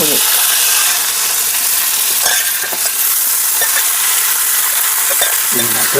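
Boiled potatoes being stirred into fried onion and chili in a hot pan for potato thoran, a steady loud sizzle and frying hiss with scraping stir strokes throughout.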